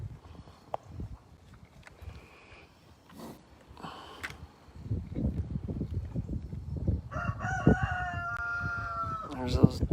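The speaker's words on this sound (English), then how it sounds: "There's those dadgum roosters, Brooks." Roosters on a ranch crow several times, the long drawn-out calls rising at mid distance over scattered clucks, shuffling and brief low voices.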